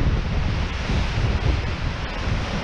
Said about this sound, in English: The wind is crazy. It is literally whipping these trees around like they're nothing.